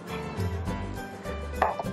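A knife cuts a pan-fried Hong Kong style taro shred cake into six pieces, giving a few close, dull chops against a board in quick succession.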